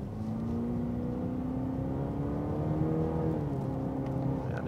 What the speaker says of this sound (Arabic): بما أن السيارة 4 سلندر وتيربو، أكيد عندكم تساؤل حول استجابة السيارة